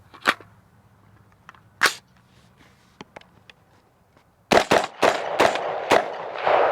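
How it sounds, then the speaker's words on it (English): SR-556 rifle with its gas regulator on setting 1, firing Hornady 75-grain .223 rounds: two spaced sharp shots, then a rapid string of five or six loud cracks close by. "This is the Hornady 75 grain .223. We're going to run it through this SR-556 on setting 1."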